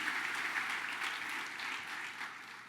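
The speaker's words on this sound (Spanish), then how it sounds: "Regálale un aplauso al Señor" A church congregation applauds during a worship service. The clapping is soft and distant and holds steady throughout without any voices.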